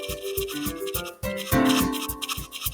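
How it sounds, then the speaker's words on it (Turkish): Toothbrush scrubbing teeth inside a video game, a rapid rhythmic back-and-forth scratching that repeats steadily and grows louder partway through, with music-like tones underneath. "Ha diş fırçası."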